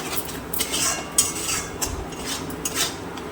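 Indian spice powders such as cumin and Kashmiri chilli being stir-fried in a pan, heard as a low background sizzle with repeated light scrapes and taps of a metal spoon.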